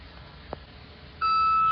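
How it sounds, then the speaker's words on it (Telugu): A copy AirPods Pro 2nd generation case set on a wireless charger gives a single clear electronic beep that starts suddenly and holds steady over a faint background hiss, with no one talking. "పెట్టగానే మీకు సౌండింగ్ అనేది బీప్ సౌండ్ వచ్చింది"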